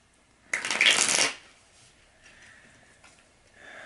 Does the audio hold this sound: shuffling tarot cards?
yes